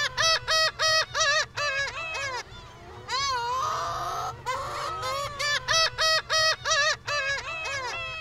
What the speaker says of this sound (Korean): 한 번도 롱콜을 들어보지 못한 사육된 갈매기 새끼는 이 소리에 어떻게 반응할까?